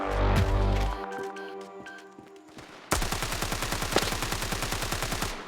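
Rapid automatic gunfire from the video game Standoff 2 during a duel, first a heavy burst with echoing tail, then a fast rhythmic stream of shots.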